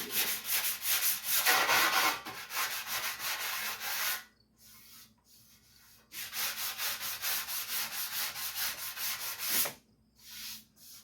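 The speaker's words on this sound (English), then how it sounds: "I gotta find my other round sanding block" Steady rhythmic sanding strokes of a round sanding block rubbing the rear bodywork of a 1956 Chevy, two long bursts with a brief pause between, close and moderately loud.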